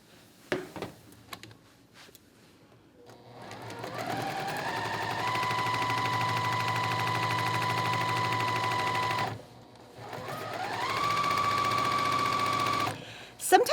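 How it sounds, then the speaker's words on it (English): A sewing machine sews across a quilt block seam with a steady motor hum in one long run, a brief stop, then a second sustained run. "And then I'm going to sew across, and again, I just pull the pin right when I get to it."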